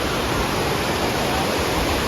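Water rushing over a dam near a temple, a loud, continuous broadband roar with no breaks, close by and with no voices over it.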